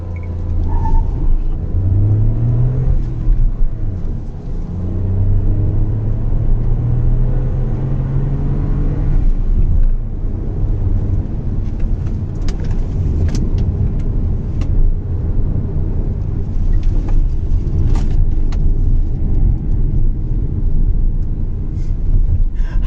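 A Mahindra XUV300 SUV driving through a cornering and body-roll test: a steady low engine and road rumble heard from inside the cabin, with rising engine tones and a few faint rattles and knocks.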